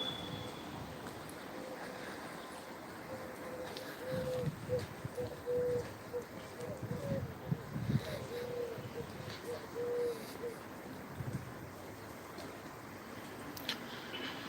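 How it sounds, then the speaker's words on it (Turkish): A turtle dove coos in soft, repeated low calls at a moderate distance over faint outdoor background noise, with the calls clustering in the middle of the stretch. "Bak, burada da bir kumru."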